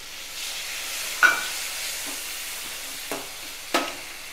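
Onions and tomatoes sauté in a pan with a faint, steady sizzle, broken by three soft scrapes of stirring.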